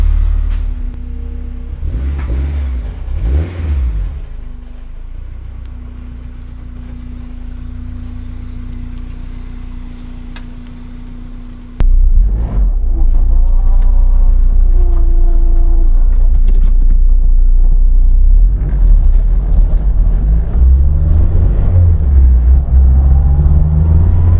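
A car with a newly installed clutch drives along, its engine rumble steady at first and then louder and fuller about halfway through as it pulls away, with a low droning hum throughout and no talk.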